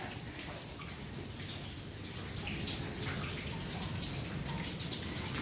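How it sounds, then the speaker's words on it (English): Water drips and trickles inside an old gold mine in Meirionnydd, a dense continuous spatter of drops echoing in a wet underground passage. "It's quite drippy, it's quite wet."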